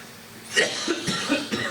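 Several short, raspy coughs come in quick succession from a man nearby, alone and fairly loud.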